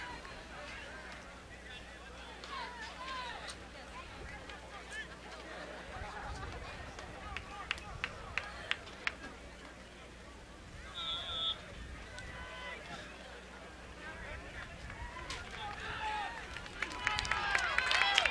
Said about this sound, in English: the crowd is really excited and pumped up for this game